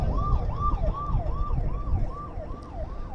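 Sirens from an event sound system tested for evening discos at the Finke Desert Race, a loud, close, steady wailing sweep repeating about every half second over a low rumbling background.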